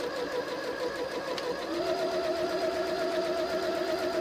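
Sewing machine running with a 1/4 inch foot while stitching the lining of a Christmas stocking, a steady close whirring hum that continues alone without pause.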